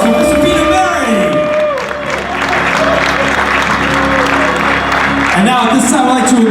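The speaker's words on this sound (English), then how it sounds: "have a big round of applause for Mr. Peter Murray" A large crowd at a mobile entertainment expo hall of fame ceremony claps and cheers loudly and continuously, with whoops rising over dense applause and music playing along underneath.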